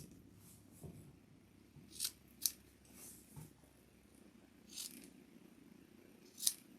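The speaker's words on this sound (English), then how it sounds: "you're going to clip all your corners, trim off any excess fabric" Scissors snipping fabric corners and trimming excess cloth on a scrap mug rug, a handful of crisp close clips spaced out over quiet room tone.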